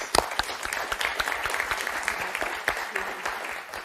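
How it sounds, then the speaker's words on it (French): Studio audience on the French TV game show Motus clapping warmly after a round, a dense sustained patter of many hands with a few sharper claps standing out, close and lively. "Très, très, très belle première partie de Josette et de Delphine qu'on va applaudir très fort"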